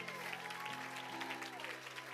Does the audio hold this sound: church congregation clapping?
yes